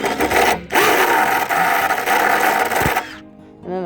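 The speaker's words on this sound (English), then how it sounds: "drilling holes in the top of it" A loud, continuous drill whine grinds through the plastic lid of a 35-gallon bucket for about three seconds, briefly pausing near the start, then cuts off.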